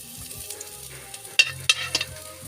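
Ginger pieces frying in hot oil in a pan, a soft steady sizzle with a few sharp stirring clacks near the end.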